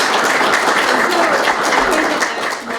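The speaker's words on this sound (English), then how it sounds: "Let's give them another round of applause" A crowd at a 100th anniversary ceremony for the Iowa state flag applauds with dense, steady clapping that fades slightly toward the end.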